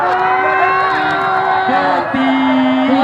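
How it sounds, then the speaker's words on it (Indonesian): A crowd at an Indonesian community cultural event in Padong Pangeran cheers and shouts loudly during a tug-of-war contest. Sustained voices whoop and yell close by in a continuous roar, with no distinct claps standing out. "Para penonton berilah sorak dan tepuk tangan."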